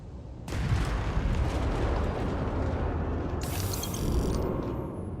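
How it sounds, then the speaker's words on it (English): A giant bank ship explodes in the Starfield space game, a sudden loud rumbling blast that swells into a sustained roar with a bright burst of debris layered on midway. "We should see the big giant bank ship blow up."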